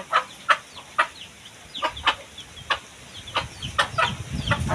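Chickens cluck in short, sharp bursts at irregular intervals, moderately close, over a low rustling background with a faint rumble building toward the end.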